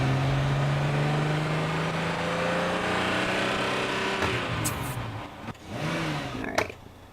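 A car in The Sims 3 drives off with a steady engine hum that rises in pitch as it accelerates and revs, then fades, with a couple of brief clicks near the end and no talking.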